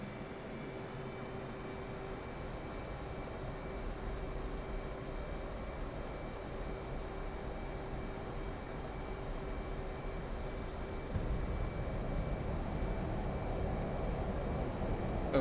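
An F/A-18C fighter jet in the DCS flight simulator roars steadily on its takeoff run, a continuous broad engine drone with a faint whine that grows louder as the afterburner builds near the end.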